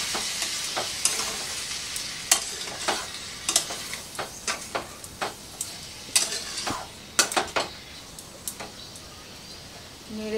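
A spoon scrapes and clinks repeatedly against a pan of small mourola fish curry with a little added water, over a soft, steady simmer.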